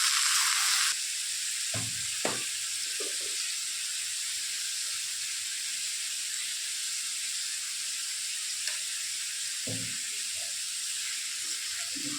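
Steady hissing sizzle of snake gourd frying in hot oil with black cumin seeds, continuous throughout, with a few soft clatters of stirring.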